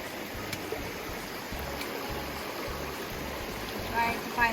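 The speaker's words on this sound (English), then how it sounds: "Alright, we're going to another river crossing." A river stream at a hiking trail crossing near Santa Paula rushes steadily as broadband water noise, with a low motor-like rumble beneath and a brief knock near the end.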